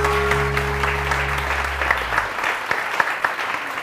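Studio audience applause on a TV morning show, a bright continuous patter of clapping that takes over as a low sustained music tone fades out, then carries on alone with a few sharper claps.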